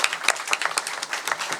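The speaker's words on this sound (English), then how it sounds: "a round of applause for all the presenters is" An audience at an academic conference session on ethics, equity and inclusion claps for the presenters: dense, steady applause from many hands fills the whole stretch, fairly close and loud, with no talking over it.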